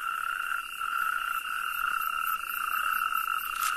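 Natterjack toads croak in a dense, continuous trilling chorus, many males calling together at steady loudness with no gaps.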